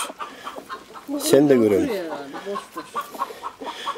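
Hens cluck and call inside a backyard coop, one loud squawking burst standing out among softer clucks, with someone talking nearby.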